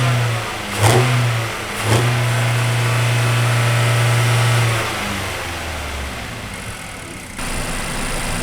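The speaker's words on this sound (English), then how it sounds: "raise the RPM to high idle" A car engine during a 3C Vortex cleaning revs up twice, then holds a steady high idle around 3,000 to 4,000 RPM for several seconds before easing down, loud and close with no talking.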